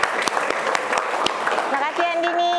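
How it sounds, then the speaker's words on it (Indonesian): Classroom applause from a group of students, steady clapping that fills the room, with a sustained tone and voices emerging near the end. "tepuk tangan semuanya"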